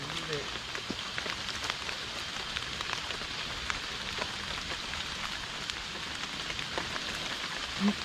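Heavy rain falls outdoors as a steady, dense hiss of drops hitting surfaces. It holds a constant, fairly quiet level throughout, with scattered sharper drop ticks.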